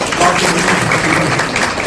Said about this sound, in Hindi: आप तमाम की मौजूदगी में मैं चाहूंगा कि टीम के लिए जो एक युवा लीडर है आप जोरदार तालियां बजाएं।